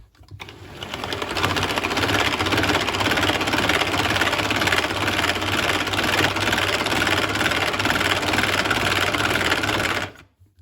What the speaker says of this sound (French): je me mets en vitesse 1, comme vous pouvez le voir ici, et je vais commencer à fouetter.